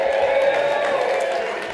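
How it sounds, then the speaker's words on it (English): Audience applause and cheering fill a ski touring talk venue, a steady wash of clapping with a few whoops, fairly loud and continuous, tapering slightly toward the end. "So let's give Morgan a big round of applause."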